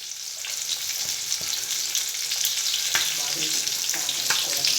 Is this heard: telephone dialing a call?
no